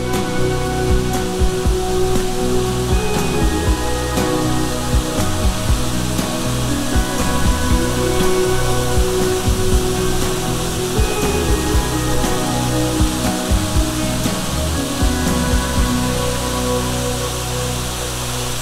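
Steady broadband roar of Blackfellow Falls, a waterfall in Australia, rushing continuously at close range with no pauses or voices, a dense wash of falling water.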